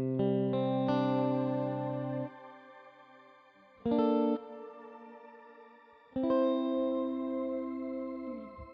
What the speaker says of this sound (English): there's a little button here that has a shimmer effect